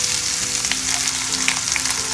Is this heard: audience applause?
no